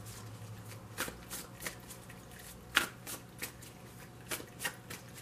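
Oracle cards being shuffled by hand, a quiet series of soft riffling and slapping taps at uneven intervals, close and faint over a low steady hum.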